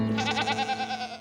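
A single goat bleating nearby, one loud quavering cry with a rapid vibrato that fades out after about a second.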